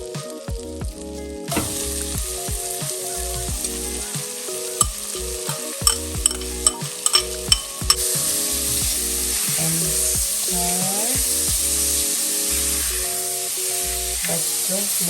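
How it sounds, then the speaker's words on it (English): Finely chopped onion fries in melted butter for beef stroganoff, making a steady, close sizzle with occasional crackles. The sizzle runs continuously under background music. "Once it melts, you're gonna put your finely chopped onion."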